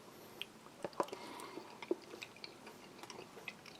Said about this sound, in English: I'm just going to try a little bit with some of those chickpeas.